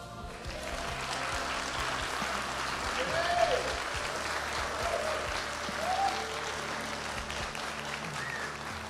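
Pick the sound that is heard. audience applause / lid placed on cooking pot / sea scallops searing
audience applause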